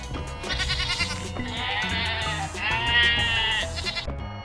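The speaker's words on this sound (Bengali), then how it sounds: "ছতে ছাগল ছানা লাফিয়ে চলে" Several kid goat bleats, loud and wavering, ring out one after another over a backing of music.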